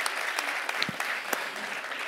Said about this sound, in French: On peut, bien sûr, on peut applaudir.